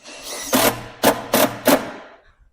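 Four short, sharp bursts of a screw being driven through the skin and backing of a commercial door frame head, close and loud with brief pauses between them.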